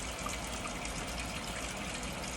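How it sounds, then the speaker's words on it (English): Tap water running over hands during handwashing, a faint, steady trickling splash that stays even throughout, with no talk. "letting the water flow down and get soaked, and lather it all around your hands"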